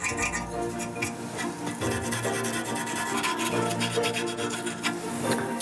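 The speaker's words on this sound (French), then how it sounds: "Voilà, le bec est poncé." A restored object's beak sanded by hand, heard as a continuous close scratchy rubbing and rasping with steady back-and-forth strokes and no talking.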